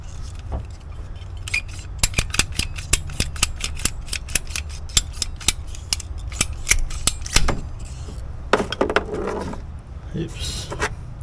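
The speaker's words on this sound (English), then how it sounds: "cut off the ends of both of these hoses" Sharp, closely spaced snips ring out one after another as the ends of two hoses are cut off on a 2010 Chevy Silverado, followed by a few looser clinks and rattles near the end, with no talk.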